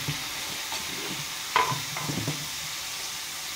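Eggplant curry sizzles quietly in a pan while a utensil stirs it, with one sharp scrape against the pan partway through and soft clinks after.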